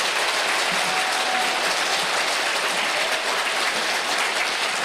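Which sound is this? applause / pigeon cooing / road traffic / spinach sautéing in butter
applause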